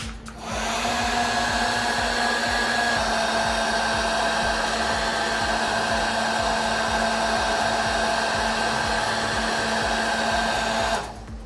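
Steady whirring blast of a hot air gun heating an ASUS ROG 2 phone to loosen a part during a screen replacement, starting abruptly, holding loud and even for about ten seconds, then cutting off, with no talking.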